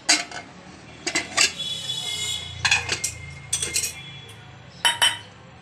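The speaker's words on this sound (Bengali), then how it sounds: "আমি এবার ঢাকনাটা খুলছি" A pressure cooker lid is opened after cooking chicken, with several sharp metallic clinks and clatters of lid against pot, close by, separated by short pauses and a soft hiss of background noise.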